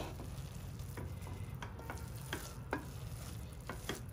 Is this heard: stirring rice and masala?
yes